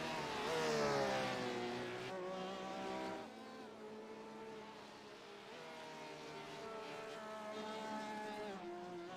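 The number 21 Porsche race car drives on a technical circuit, its engine note rising and falling steadily as it passes nearby, loud and alone without talk.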